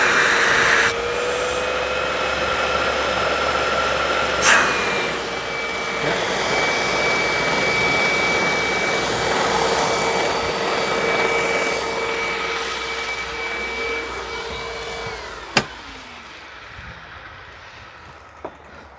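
A Hoover WindTunnel Plus self-propelled upright vacuum cleaner runs with a steady whining roar and airflow hiss, a sharp knock partway through, then cuts off near the end, leaving a quiet room and a couple of clicks.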